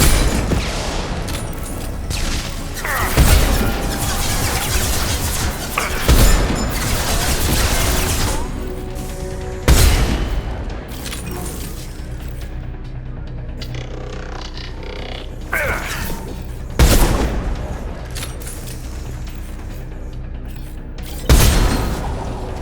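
A hacked turret in Mass Effect 2 fires in a series of heavy, booming blasts every few seconds over a dense mechanical rumble of combat, loud and close, with no talk.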